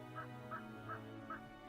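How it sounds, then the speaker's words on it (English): Turkeys gobbling in the village-building game Settlement Survival: four evenly spaced, faint honking calls over a quiet droning background, with no talk. "It's the turkeys there."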